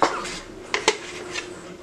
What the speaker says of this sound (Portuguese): Então agora a gente vai limpar bem ele aqui, ó. Tirar todo esse creme.